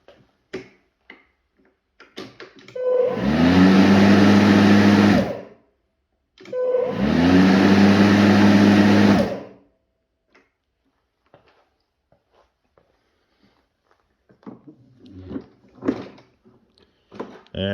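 A Makita 36v cordless lawn mower spins up twice with its blade whirring, each run a loud steady whine lasting a few seconds before braking to a stop, with quiet clicks and handling noises between and after.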